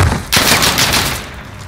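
Gunfire in Call of Duty: Modern Warfare, a loud burst of rapid shots crashing in after a short lull and then trailing off into a decaying rumble over roughly a second.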